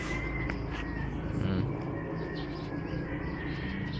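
Soft coos and a few chirps from caged pigeons sit low in a steady, noisy outdoor background, with no talking.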